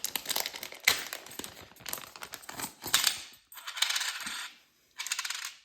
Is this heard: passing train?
no